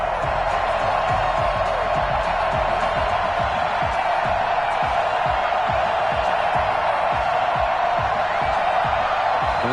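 A stadium crowd in a Madden football video game roars continuously and loudly, a dense, steady wall of cheering with no break.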